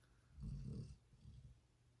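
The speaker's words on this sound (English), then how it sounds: "you occasionally are picking out this snoring dog" A dog snores softly close by, one deep rumbling breath followed by a fainter one, very quiet overall.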